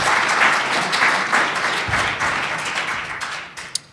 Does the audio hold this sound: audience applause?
yes